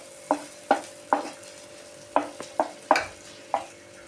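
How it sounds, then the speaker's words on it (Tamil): Prawns fry in butter in a pan, stirred with about seven sharp scraping strokes in an uneven rhythm over a faint sizzle and a steady low hum; no one speaks. "நம்ம பட்டரில் போட்ட ப்ரானை வந்து உள்ளே போட்டு நல்லா வறுத்துக்கலாம்."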